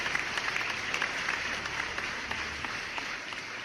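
Podcast applause sound effect, a dense steady wash of clapping from a crowd that holds at an even level for a few seconds with no voices.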